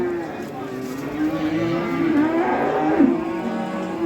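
Bull calves at a livestock market in Beylagan moo loudly and close by, long drawn-out calls rising over a steady crowd murmur with a voice speaking.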